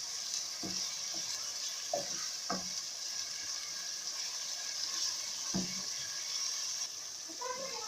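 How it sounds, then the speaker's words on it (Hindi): Garlic fries with minced meat over a full flame, giving a steady, quiet sizzle with a few soft clinks and stirring knocks scattered through it. "इसको तकरीबन 3 मिनट तक हम फ्राई करेंगे।"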